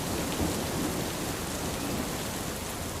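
Steady, dense rainfall in a cartoon setting, with drops falling around a pond, forming an even, continuous hiss that fills the whole stretch without pause, loud and close, with no voices.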